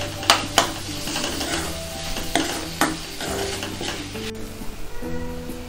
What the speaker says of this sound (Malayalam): ഇതിങ്ങനെ ഇളക്കി കൊടുത്തിട്ട് തക്കാളി ഇതിനകത്തോട്ടൊന്ന് നന്നായിട്ട് പേസ്റ്റായിട്ട് കിട്ടണം